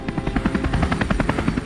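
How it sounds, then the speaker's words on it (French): Rapid rhythmic thumping of helicopter rotor blades, steady and fairly close, with no voices. "Hélicoptères. Nous sommes sauvés."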